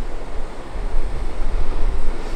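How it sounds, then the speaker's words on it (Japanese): Sea surf building on a shoreline at a campsite, a steady broadband wash of waves with low rumbling swells and wind noise, continuous and fairly close, with no voices. "でも波が出てきてる。"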